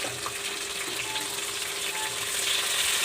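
Chopped tomato goes into onions frying until light brown, giving a steady, close, broadband sizzle that holds evenly throughout with no voices.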